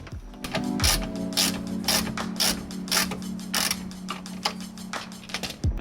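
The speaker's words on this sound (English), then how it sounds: "I'll go in with the box end of this wrench to hold that nut steady while I turn the socket on this side." A socket ratchet turns a sway bar lock nut during a rear sway bar upgrade on a 1996-2000 Honda Civic. It makes a rapid series of sharp, close clicks in bursts, with a steady metallic ring underneath and no talk.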